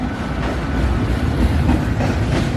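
CN freight train Z 147, an intermodal led by locomotives 3883 and 3120, rolling westbound through Battle Creek, Michigan, with a steady rumble and clickety-clack of wheels that holds loud and close for the whole stretch.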